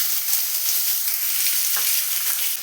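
Onions frying in hot oil in a pan for egg bhurji, a loud continuous hiss of sizzling, close and unbroken for the whole moment, no voices.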